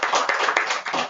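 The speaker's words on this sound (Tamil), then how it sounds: "ஐ திங்க் அதுக்கே எல்லாரும் ஒரு கரகோஷம் கொடுக்கணும் அவருக்கு" A brief burst of hand clapping at a Tamil-language Toastmasters milestone meeting, close and fairly loud, a handful of quick claps across about a second.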